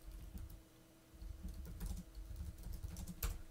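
Typing on a computer keyboard while building blocks in Simulink: quick, light clicking keystrokes in irregular bursts, close and fairly quiet, with no voice.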